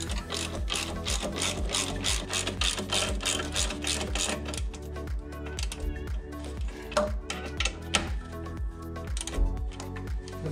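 A ratchet wrench tightening a brake caliper bolt on a Land Rover Discovery 3, rapid steady clicking close up for several seconds, then slowing into sparser clicks and clanks.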